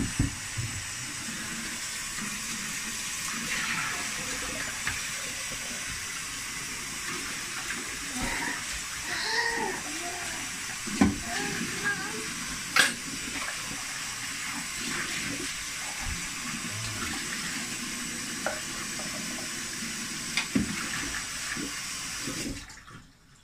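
Running water pours steadily from a tap over beetroot and ginger being rinsed, with faint splashes and knocks, and a low voice now and then, before the flow cuts off abruptly at the end.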